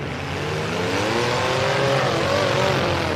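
Compact class race cars surge off the start of a dirt-track heat, loud engines revving and climbing in pitch together as the pack accelerates away, a dense roar with no clear speech.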